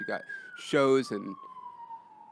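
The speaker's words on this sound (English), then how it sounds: "sorry about the sirens if you guys hear that." A police siren sounds on a Koreatown street, a single wailing tone that slowly falls in pitch and carries through the whole stretch. Someone talks nearby over it.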